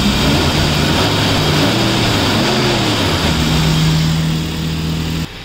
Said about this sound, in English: You can just check out how beautiful in the idling the engine sound is.